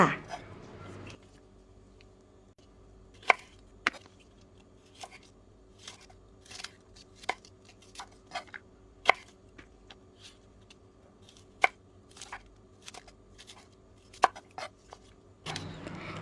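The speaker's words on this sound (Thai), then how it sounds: "ให้เพื่อนๆดูวิธีการหั่นกระเจี๊ยบไปก่อนค่ะ" Okra pods are chopped with a knife on a cutting board in a home kitchen, giving sharp, irregular thuds and clicks spread over a long stretch. The cuts sound close and dry against a quiet background, with no talk.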